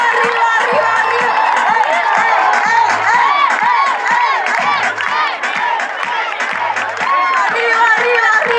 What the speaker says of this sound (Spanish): aplauso a todos, con las manos arriba